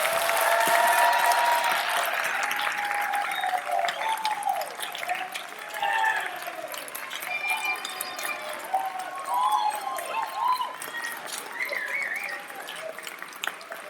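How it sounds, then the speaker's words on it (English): A round of applause from the audience at a 2019 Duke English graduation ceremony starts dense and loud, then thins into scattered clapping with faint crowd murmur and whistle-like tones. "Perhaps we can give one more round of applause collectively to all of you."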